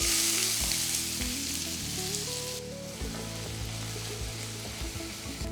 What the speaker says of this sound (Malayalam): ചൂടായ എണ്ണയിലേക്ക് നമുക്കൊരു ചെറിയൊരു മീഡിയം സൈസിലുള്ള സവാള സ്ലൈസ് ചെയ്ത് ചോപ്പ് ചെയ്തത്